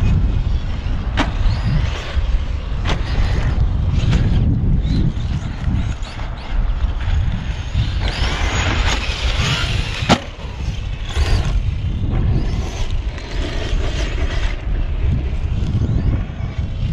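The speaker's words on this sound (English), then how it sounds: "Such a windy day." Strong wind buffets the microphone on a dusty outdoor RC truggy track, a steady loud roar of gusts with no talking.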